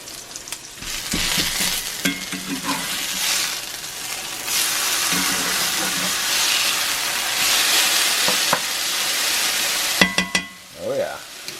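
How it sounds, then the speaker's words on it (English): Hash browns frying in a cast iron pan, a steady close sizzle that surges as they are flipped, with scraping and clinking of a utensil against the pan and a brief voice near the end. "let's flip these hash browns over"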